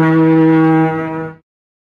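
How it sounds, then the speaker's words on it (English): A ship's horn sounds one deep, steady blast of about a second and a half, loud and tonal, then cuts off into silence. "Ship."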